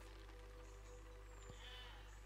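Sheep bleating in the video game Besiege, a faint animal call over a constant low electrical hum, with no speech.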